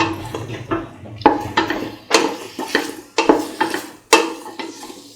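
A spoon stirs garam masala spice mix through garlic potato rice in a pan, giving a close, loud run of repeated scraping and clattering strokes in an uneven rhythm, with no talk.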